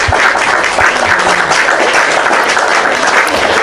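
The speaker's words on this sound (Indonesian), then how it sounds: "Tepuk tangan dulu." An audience claps loudly and steadily, dense applause filling the whole stretch without a break.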